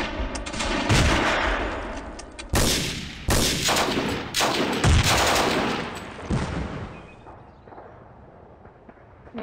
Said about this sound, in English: Okay, there's been shooting.